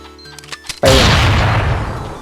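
A few light clicks and taps, then a sudden loud grenade blast in a video game that rumbles and fades slowly, heavy and close.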